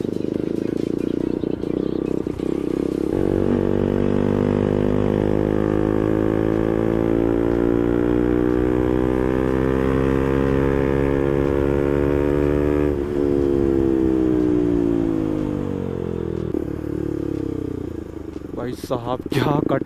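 A modified KTM Duke 250 motorcycle engine holds a loud, steady rumbling drone that rises in pitch over several seconds as it revs, then drops back, running continuously and close with no pauses.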